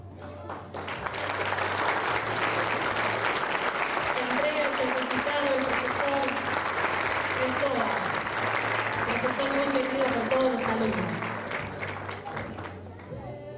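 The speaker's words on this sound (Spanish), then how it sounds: "Fuerte el aplauso." Audience applause for a graduate at a university graduation ceremony, a dense sustained burst of clapping from a crowd lasting over ten seconds, with a voice speaking over it through a sound system.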